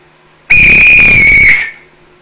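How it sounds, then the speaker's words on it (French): One loud, shrill referee whistle blast held for about a second, close by, then cut off sharply. "J'ai acheté un sifflet d'arbitre qui va me permettre de donner le coup d'envoi"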